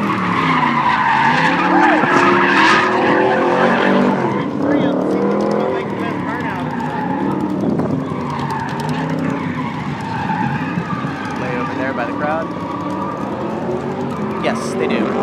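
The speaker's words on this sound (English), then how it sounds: "Red Cobra is about to go drifting." Tires screech and squeal repeatedly as a red car's engine revs and slides in a drifting demonstration at the SEMA auto show, with people talking over the noise.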